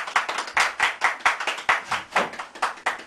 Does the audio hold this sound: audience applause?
yes